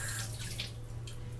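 Tap water runs steadily over two potatoes being rinsed in a kitchen sink, a continuous close hiss with small splashy shifts as the potatoes are turned under the stream, no voices.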